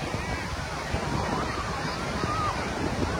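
Steady rushing surf at Ganpatipule beach with constant wind noise, broad and continuous throughout, no distinct individual wave breaks.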